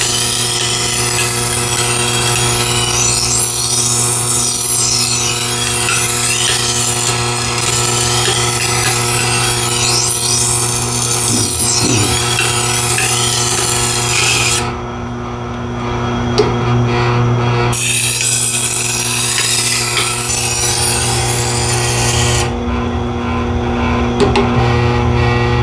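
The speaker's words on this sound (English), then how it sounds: "We're going to go to the 1000 grit stone and try to get all those burrs gone." Knife edge ground on the 1000 grit stone of a Tormek T8 sharpener, a continuous close grinding and rubbing over a steady motor hum, with a couple of brief pauses in the contact.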